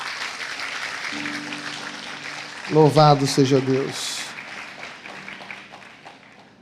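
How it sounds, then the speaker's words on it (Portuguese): Church congregation applauding, a rising wash of clapping beneath a man's brief spoken exclamation that tapers off into quiet. "Vamos dar uma salva de palmas para Jesus."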